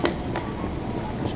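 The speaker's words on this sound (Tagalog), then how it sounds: "Tayo sasakay muna ng tren para pumunta tayo ng Taoyuan na airport" An airport train ride toward Taoyuan airport Terminal 2 carries a steady, fairly quiet rumble of a rail carriage in motion, with a few faint wheel clicks and no clear talk.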